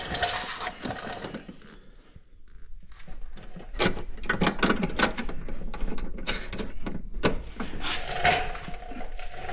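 Nuts being run onto bolts while fitting a lift kit on a Polaris Ranger 150: clustered metallic clicks and rattling bursts over a steady background hum, close by.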